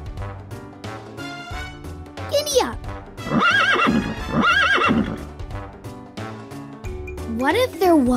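A horse whinnies loudly several times, high rising and falling neighs, with hooves clip-clopping and music playing underneath, in the Daniel Tiger's Neighborhood children's game.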